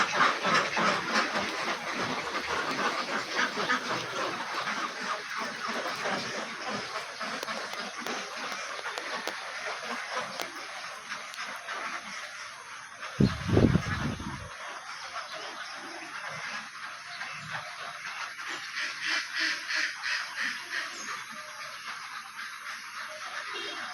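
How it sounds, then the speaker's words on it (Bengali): Ducks in a laying house on a duck farm keep up a dense, continuous chatter of quacks and clucks at moderate level, with one brief louder thump partway through. "এই ঘরেও হাঁস থাকে"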